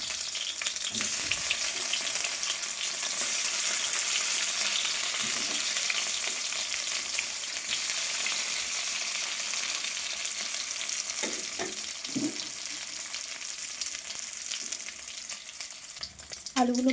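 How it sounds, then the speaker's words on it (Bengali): Potatoes frying in oil in a wok, a steady bright sizzle with occasional stirring scrapes and clinks, close and continuous without talk. "এবার ওই কড়াতে একটু তেল দিয়ে আলুগুলো একটু ভেজে নিচ্ছি"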